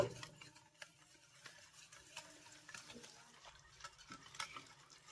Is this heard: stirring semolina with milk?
yes